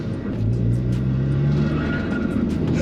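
Engine-swapped 310 bhp VW Caddy TFSI van with airlift suspension, its turbocharged petrol engine revved up close, a steady loud drone with rising harmonics held for a few seconds, no talking over it.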